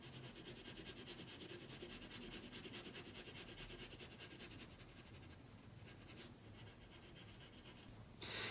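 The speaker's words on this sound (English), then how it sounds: "I'm going to go in and shade that one in, again, using just horizontal lines, but I'm using a little bit harder pencil pressure" A pencil shades paper in horizontal strokes with firm pressure, a soft steady scratching and rubbing that continues at close range and pauses briefly near the end.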